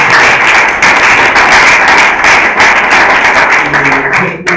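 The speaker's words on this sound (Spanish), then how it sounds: "bueno, primero un aplauso" Sustained applause from an audience in a class fills the space loudly and steadily, dense clapping with no pauses, fading slightly at the very end.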